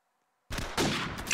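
Gunfire in the Roblox video game: after a moment of silence, a loud close burst of rapid shots erupts and continues without a break.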